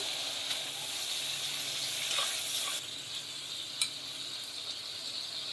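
Soaked mung dal fries with turmeric and other spices in a pan, a loud continuous sizzle and hiss with a few brief stirring scrapes, the sizzle easing slightly partway through.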